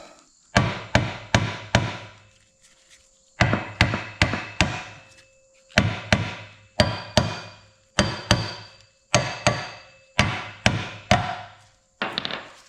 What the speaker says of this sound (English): Couple little whacks of the hammer.